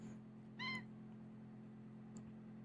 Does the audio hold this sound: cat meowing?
yes